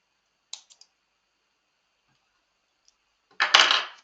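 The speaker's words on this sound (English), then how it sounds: "Snip that off." Scissors snip through knitting yarn: a few faint light clicks early on, then after a pause a louder, sharper cut with a short rustle, heard close up without talk.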